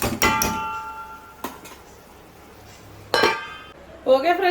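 A metal lid is set on a cooking pot of salted fish and drumstick curry with a few sharp close clanks and rattles, then a quiet gap before a voice starts at the end.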